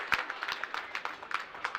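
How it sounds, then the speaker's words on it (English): Crowd at a high school boys ice hockey game between Cranston West and PSW, cheering and clapping in a steady run of scattered claps and noise, moderately loud, with faint talk underneath. "a loud cheer from the Cranston faithful"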